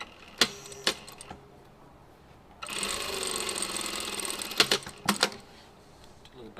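A sewing machine stitches a back tack on pre-made bias binding: a few isolated mechanical clicks, then a two-second burst of steady whirring stitching, then more sharp clicks, close and fairly quiet.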